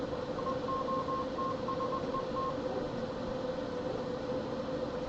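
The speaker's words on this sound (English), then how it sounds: "It sent CW to the radio" Faint CW Morse code tones sent to a radio beep in a short sequence of steady dots and dashes over constant background hiss, then stop while the hiss continues.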